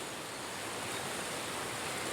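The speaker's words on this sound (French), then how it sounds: "Autre rivière qui m'est chère, la Broye." The Broye river flows in a continuous, soft, even rush of water, faint and unbroken, with no voices over it.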